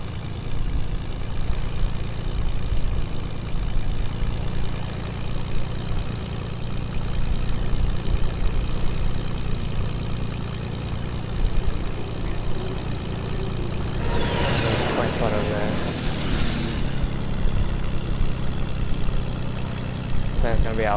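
Steady, droning propeller-plane engine in a video game, loud and continuous throughout with a low hum, joined near the end by a brief whooshing swell.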